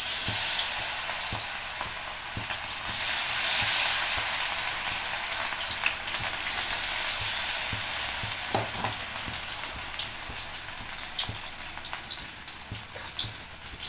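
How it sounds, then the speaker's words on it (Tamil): Cauliflower florets for gobi manchurian fry in hot oil, a dense, loud, continuous bubbling sizzle with crackles throughout and no talking. "நல்லா ஹீட்டான ஆயிலில் இந்த காலிஃப்ளவரை போட்டு நல்லா கிறிஸ்பியாக வர வரைக்கும்"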